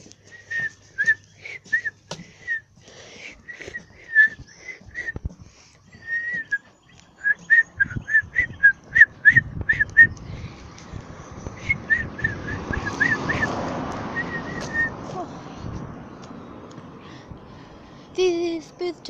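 Birds give repeated short, high chirping calls at dusk, some in quick clusters and others spaced out, fairly clear against a low rumbling background that swells through the middle.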